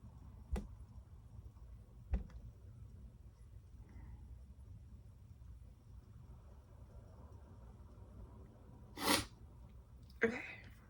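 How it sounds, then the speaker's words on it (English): A single sharp sneeze bursts out near the end of a quiet room stretch, preceded by a couple of faint clicks and a soft breathy sound, with low background hum and no talk. "I felt like I needed to sneeze"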